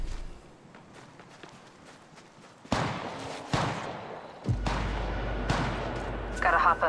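Gunfire in the Apex Legends Mobile battle royale game: a few sharp loud shots break out, then heavy sustained firing and explosive bursts dominate the close mix.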